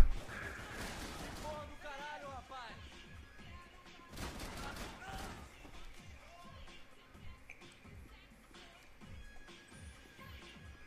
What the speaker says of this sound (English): So we're going to shoot pretty much everybody here in the bar.